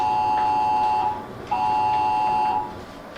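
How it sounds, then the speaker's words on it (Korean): A loud electronic emergency disaster alert sounds as a steady high-pitched pulsing tone, repeating in even beeps of about a second each. "긴급 재난 경보입니다."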